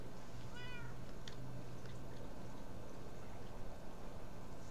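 A cat meows briefly near the start, a short rising-falling call close to the microphone over steady low room hum, then only faint background noise follows.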